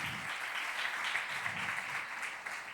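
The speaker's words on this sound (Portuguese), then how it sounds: "Dê uma salva de palmas para o nosso Salvador Jesus Cristo" A congregation claps steadily during a church celebration service, broad, continuous applause filling the hall at moderate level for the whole moment, with faint voices mixed underneath.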